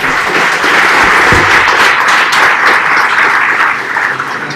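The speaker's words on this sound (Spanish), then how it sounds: "Aplausos." Audience applause after a talk at a React developer conference in Medellín, a dense, steady wash of clapping that stays loud and even for the whole stretch.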